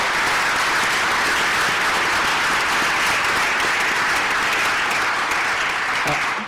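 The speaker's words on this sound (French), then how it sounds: "Je veux vous remercier d'abord, vous tous, d'avoir pris part et vous applaudir absolument." A large audience closing a panel discussion on sustainable construction bursts into steady, dense applause, many hands clapping continuously and loudly throughout with no pause, close and filling the room.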